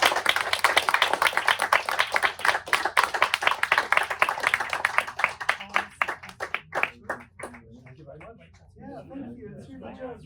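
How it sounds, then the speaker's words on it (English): Clapping from an audience at the Mayfair Times Literary Festival, brisk and dense at first, then thinning into scattered claps and fading out as a voice begins to talk. "give these fine gentlemen a round of applause"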